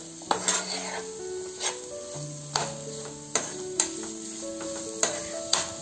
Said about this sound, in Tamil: உருளைக்கிழங்கு நல்லா வந்து கோல்டன் கலர்ல வந்து நல்லா ஃப்ரை ஆகணும்